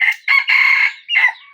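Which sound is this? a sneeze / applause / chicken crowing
chicken crowing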